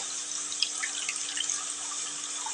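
Soaked tamarind water for fish curry is poured through a strainer, giving a continuous close trickle of running liquid with small drips and splashes.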